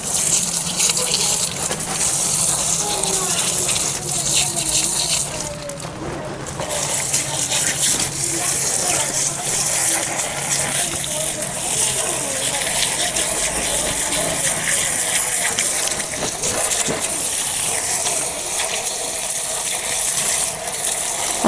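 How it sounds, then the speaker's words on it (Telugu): Water gushes steadily from a garden pipe over freshly harvested cassava roots, a loud continuous rushing and splashing that dips briefly near the start and carries on without talk. "ఒకసారి మంచిగా కడిగి మీకు చూపిస్తా ఉండండి. ఇక్కడికే పైప్ పెట్టుకున్నా."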